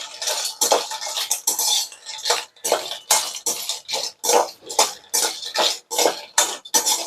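Cinnamon sticks dry roasting in a pan for homemade kurma masala. A spatula scrapes and rattles the hard sticks across the metal in loud, regular strokes about twice a second, close up.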